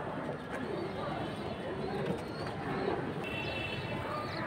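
Fancy pigeons for sale, including a red pair, cooing softly in a loft amid background chatter and ambient noise, with low, intermittent coos throughout.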